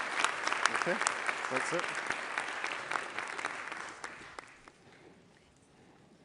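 An audience at the One Health Summit in Lyon applauds the panelists with loud, dense clapping that gradually thins and fades out. Voices talk briefly over the applause near its end.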